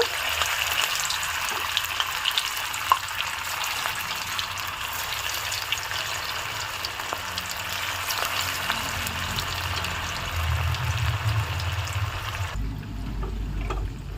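Vegetable bread cutlets fry in hot oil with a continuous crackling sizzle that holds steady for many seconds, joined near the end by a low rumble, probably the gas flame.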